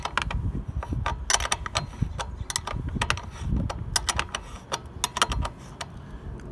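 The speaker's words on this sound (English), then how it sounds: "so I'm going to loosen this bolt." Sharp metallic clicks and ticks in irregular bursts come from loosening a bolt on an IgniteNet antenna mount. The sounds are close and moderately loud over a low background rumble.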